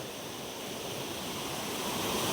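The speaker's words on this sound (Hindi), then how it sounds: "पानी तो बहुत फास्ट आ रहा है," Steady, loud rush of fast-flowing river water, a dense broadband roar that builds slightly over a couple of seconds with no voices.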